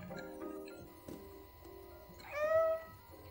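In the video game Stray, a cat gives a single clear, fairly close meow near the end, over quiet ambient game sounds with faint ticking.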